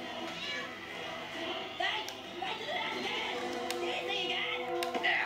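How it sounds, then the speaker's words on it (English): Cartoonish cat meows sound in the South Park: The Stick of Truth video game, several short cries mixed into busy game audio and overlapping voices. "She seriously hurted a cat."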